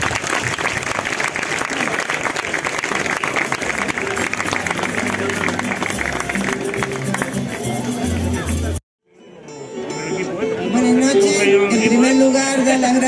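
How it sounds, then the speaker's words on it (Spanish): A crowd applauds at a traditional folk music festival for San José Obrero in Carrizal: loud, sustained clapping and cheering that cuts off abruptly, followed after a brief silence by a voice speaking over a noisy room. "un fuerte aplauso"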